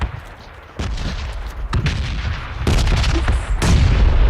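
Hand grenade blasts in a battlegrounds video game: several loud, booming explosions in succession, each a sharp broadband hit with a rumbling tail, no talking over them.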